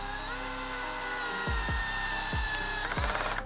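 Milwaukee 12V installation drill driving on clutch setting one, speed one: a whining motor hum broken by about five sharp ratcheting clutch clicks in quick succession, close and alone.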